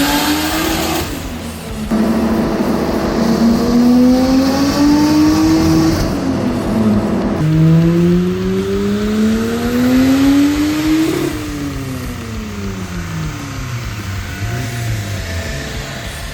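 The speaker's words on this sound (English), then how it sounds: "what we have here is a very underrated Mercedes inline-six engine" Mercedes C180 W203 with a boosted inline-six engine on a dyno, loud and close, climbing through repeated long revving pulls, dropping sharply between runs, with a whining note rising through each sweep and no talking.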